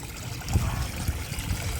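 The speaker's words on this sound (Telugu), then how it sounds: "ఇలాగ ఇప్పుడు మళ్ళీ వాటర్తో ఫిల్ చేసేసుకుంటున్నానండి" Water pouring and splashing steadily into a lotus and fish pond as it refills, a continuous close gurgling rush with low burbling.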